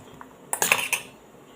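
Paneer mixed with salt and chaat masala in a bowl, heard as a brief cluster of sharp clinks and scrapes from a spoon against the dish, close and alone.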